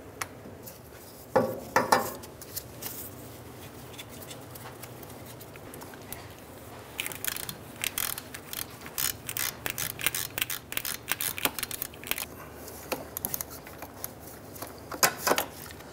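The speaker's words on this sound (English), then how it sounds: "So let's go ahead and use our 15 millimeter socket and ratchet." A 15 mm socket and ratchet loosens bolts on a 2002-2007 Jeep Liberty, giving close, rapid bursts of sharp metallic ratchet clicks in uneven runs with short pauses between them.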